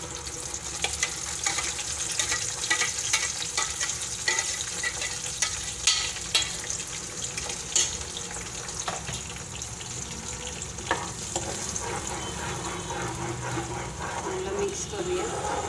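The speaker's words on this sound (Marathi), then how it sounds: "त्याला तोपर्यंत शिजवायचं आहे जोपर्यंत मसाला व्यवस्थित तेलामध्ये मिक्स नाही होत" Masala frying and being stirred in oil in a pan for a restaurant-style egg curry, a steady close sizzle with scattered scraping and clinking from stirring, under a continuous bed of crackle.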